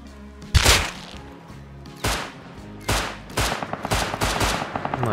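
Gunfire in the survival game Rust: several loud single shots spaced about a second apart, then a fast run of rapid shots near the end, close and sharp with no voices.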